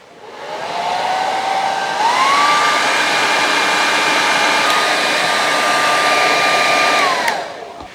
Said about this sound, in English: a hair dryer, and I'll show you why